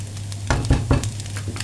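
An egg fries in a pan with a soft, close sizzle, broken by a few quick scraping or stirring bursts in the middle of the short stretch.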